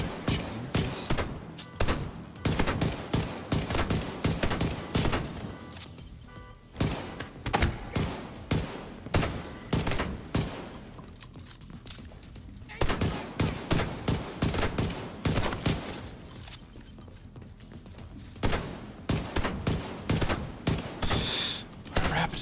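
A video game shootout fills the air with rapid, loud bursts of gunfire. Volleys and single shots come in clusters with short lulls between them and continue throughout.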